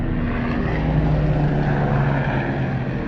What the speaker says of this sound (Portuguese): É um avião.